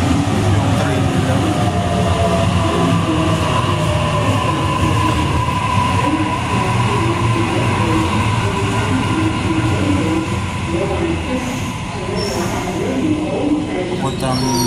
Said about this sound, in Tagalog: The train on platform 1 goes to the City Circle.